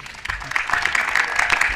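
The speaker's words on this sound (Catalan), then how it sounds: "Aplaudiments" A short burst of clapping during a local radio special broadcast in Tavernes, rising from scattered claps into a denser, fairly loud round of applause.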